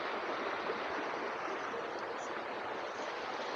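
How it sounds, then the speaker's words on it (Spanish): A strong torrent of stormwater rushes downhill along a path, producing a steady, even, broadband roar with no pauses; the sound is moderately loud and no voices are heard. "está bajando ahí el agua con toda la fuerza"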